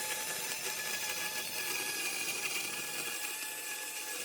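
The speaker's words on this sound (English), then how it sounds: "I'm using the Makita sort of smaller circular handsaw" A Makita compact circular handsaw cuts through a sheet of melamine, giving a steady, loud, continuous high whine and buzz that holds evenly across the whole stretch, with no talk.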